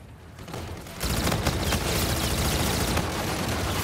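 Sustained rapid gunfire, loud and dense, with overlapping shots that intensify after the first second into a continuous barrage of cracks.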